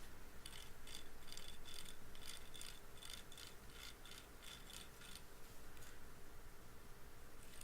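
Small plastic hip joints of a Transformers Siege Prowl action figure click through light detents, giving quick runs of faint, close ratcheting ticks in bursts with short pauses between them.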